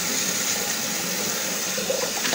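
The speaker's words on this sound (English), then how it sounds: "So and then I wash with cold water," Cold water running from a tap while a face is rinsed after a vintage shave, a steady close rush and splash of water at a sink, with no voices.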